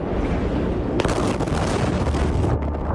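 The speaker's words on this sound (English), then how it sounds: "A second massive explosion that some described as like an earthquake." A massive explosion filmed by nearby residents: a sudden loud broadband blast hits after a moment of rumbling noise, then a sustained roaring rumble with wind buffeting on the microphone.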